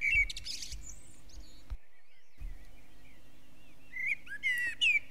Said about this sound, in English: a bouncy little blackbird stopped and looked around